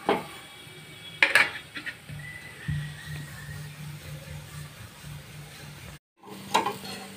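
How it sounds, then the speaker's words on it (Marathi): A methi paratha sizzles quietly on a hot griddle after being flipped, with soft scraping and a few sharp utensil clinks over a low, steady fry and no speech. "बघा आता आपण पराठा पलटून घेऊया. दुसऱ्या बाजूने पण भाजून घेऊया."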